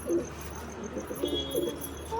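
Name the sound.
pigeons cooing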